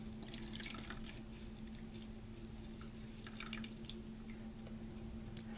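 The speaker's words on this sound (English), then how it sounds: "So just dip it in the water." A sponge is dipped into water for a photo transfer onto wood, giving faint soft splashes and drips over a steady low hum, with no one talking.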